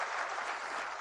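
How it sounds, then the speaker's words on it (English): A brief, dense round of audience applause at an awards event, steady and full throughout with no voices. "Ma'amer jonno aro jore round of applause hobe."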